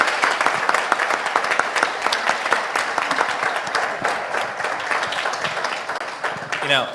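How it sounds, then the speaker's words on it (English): Sustained applause from a crowd at a public event on air pollution in Utah, dense steady clapping filling the whole stretch, with a brief voice rising near the end. "Can we have another round of applause for Kristen Cox?"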